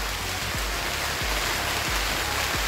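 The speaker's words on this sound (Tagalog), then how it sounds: "uulan na malakas" Heavy rain pours down in a dense, continuous hiss, with a few soft thumps underneath.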